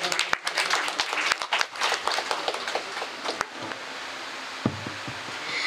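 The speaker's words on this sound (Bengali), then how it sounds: "একটা জোরে হাততালি ওনাদের জন্য।" Audience applause at a Teacher's Day award ceremony held by a guitar institute: a burst of dense, lively clapping that thins out toward the end, with a few louder isolated claps.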